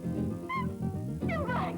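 A cat meows twice at close range, two drawn-out rising and falling calls separated by a short pause, over a low steady background hum.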